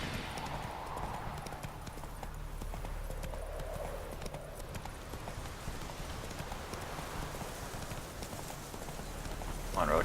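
Roach, a horse in The Witcher 3 video game, trots with a steady rhythmic clip-clop of hooves throughout, moderately close, under soft ambient background and a voice talking over it.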